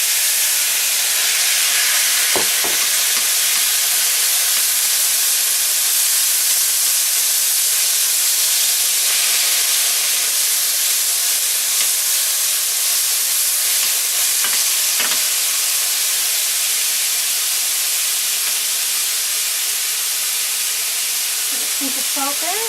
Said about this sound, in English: now I'm just going to take my squash and toss this in to coat.